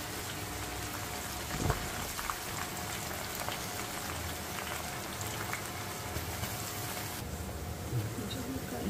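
Garlic sizzles in peanut oil, a soft, steady crackling hiss that runs continuously at low level with occasional faint pops, heard alone with no talk.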